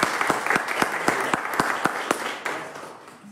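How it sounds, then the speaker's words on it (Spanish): A church congregation applauds children after their first communion at a Corpus Christi Mass, a brief round of clapping with distinct sharp claps standing out over the crowd, fading within a few seconds. "Fuerte el aplauso para ellos."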